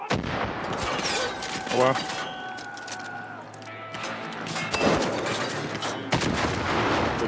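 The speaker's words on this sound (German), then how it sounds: "war klar, dass sie jetzt auf mich schießen" Enemy gunfire aimed at the player in Far Cry 5: repeated sharp gunshots and bursts of rapid fire ring out over a busy outdoor scene, with a brief sound from a voice among the shots.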